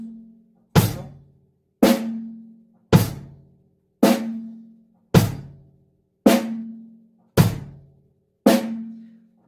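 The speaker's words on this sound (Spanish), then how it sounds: "La primera parte es hi-hat con bombo. Y la segunda parte es hi-hat con tarola." A drum kit plays a slow, evenly spaced pattern, hi-hat struck with the bass drum and then hi-hat with the snare. Nine sharp, close hits each ring out briefly and decay before the next.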